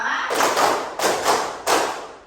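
A group in a classroom claps a fixed five-part rhythm pattern in unison, three loud clustered bursts of clapping, close and alone.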